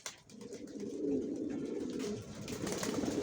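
Racing pigeons coo softly in a loft, a steady low rolling murmur from several birds close by, with no talk.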